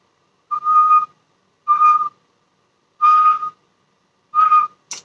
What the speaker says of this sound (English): let me see if I whistle and there should be a good output